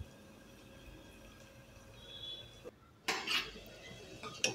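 Washed rice and urad dal go into a pan for khichadi, with a quiet background hum, a short silence, then a burst of clattering and scraping as the grains land and are moved.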